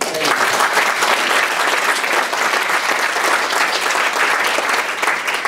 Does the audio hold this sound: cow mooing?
no